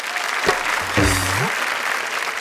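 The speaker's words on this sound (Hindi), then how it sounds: "एक बार जोरदार तालियां।" Studio audience applause on a Hindi comedy-poetry show breaks out, a broad steady clatter of clapping running through, with a voice briefly sounding over it near the start.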